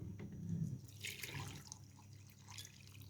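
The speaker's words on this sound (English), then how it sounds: "So I'm going to add the vinegar now." Vinegar pours into a blender holding Jamaican jerk marinade ingredients, a faint liquid trickle and splash lasting a few seconds, with no talk.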